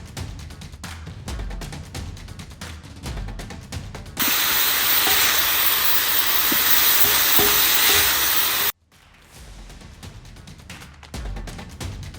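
Carrots, onions and mushrooms sizzle loudly in a hot pan for several seconds, bracketed by stirring and clattering sounds before and after.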